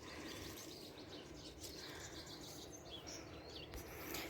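Songbirds chirp and call steadily outdoors in a backyard vegetable garden, with bright overlapping tweets and a few cooing notes over low background rumble, no talking.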